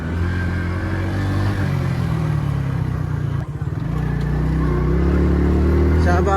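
Motorcycle engine droning and revving steadily near a river in a Pakistani village while riding through sand, loud and continuous with a brief dip midway.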